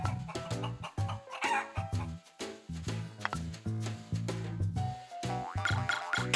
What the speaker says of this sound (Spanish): ¡Tarán! Pollo.